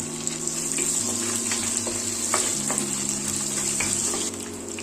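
Coconut pieces drop into ginger and garlic already frying in hot oil, giving a steady, close sizzle with occasional stirring scrapes throughout.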